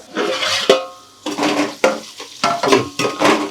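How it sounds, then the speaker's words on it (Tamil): Onions frying in a pan for chicken biryani give off a close, steady sizzle, broken by several spatula stirs and scrapes in short bursts. "வெங்காயம் நல்லா வதங்கிடுச்சு"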